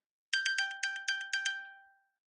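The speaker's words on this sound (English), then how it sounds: "let me just ping my phone" A misplaced phone plays its locate alert after being pinged: six quick, bright chimes in a row that fade out, fairly quiet, with no voices.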